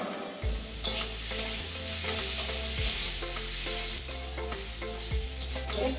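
Bitter gourd stir-fries with chili powder in a hot pan, sizzling steadily while a spatula scrapes and knocks against the metal in repeated strokes, close and clear with no talking.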